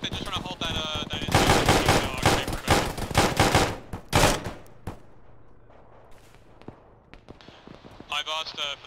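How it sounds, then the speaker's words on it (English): Heavy gunfire in an Arma military game session with a ShackTac squad, dense automatic bursts loud and close for several seconds, then thinning to scattered distant shots before picking up again, with voices speaking over the firefight. "We're taking a lot of fire."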